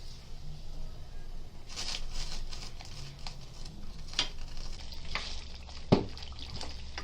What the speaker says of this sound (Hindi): अभी अच्छे से भुनेंगे इसको, चम्मच चला चला के अच्छे से तेल ऊपर आने तक भुनेंगे इसको।